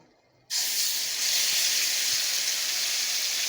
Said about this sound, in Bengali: আমি এখন দিয়ে দেব আদা রসুন পেঁয়াজ আর টমেটো, যেটা তেলে ভেজে আর পেস্ট করে রেখেছিলাম, ওটা এখন তেলের উপরে দিয়ে দেব।